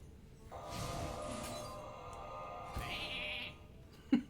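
A quiet sheep bleat plays as a spell transforms a minion into a sheep in the Hearthstone card game. It is one drawn-out wavering cry, followed by a short glassy clink.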